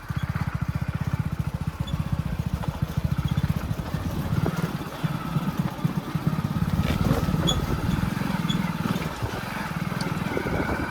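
An off-road motorcycle engine runs at the start of a rainy trek toward Gharpi waterfall in Sindhudurg, a close, rapid low putter that pulses steadily and rises and falls slightly in loudness.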